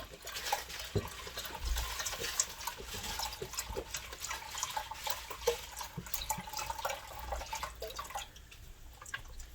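Water poured into a pot of broth at home, a steady close trickling and splashing with scattered drips, running continuously without talk.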